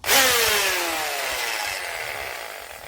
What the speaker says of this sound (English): This drill sounds quality, it's nice